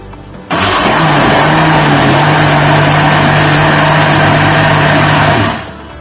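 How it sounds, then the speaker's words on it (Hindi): A kitchen blender roars loudly and steadily while blending tomatoes for tomato paste, starting abruptly at full power, holding an even motor whine for about five seconds, then winding down. "अब हम इसको ब्लेंड कर रहे हैं।"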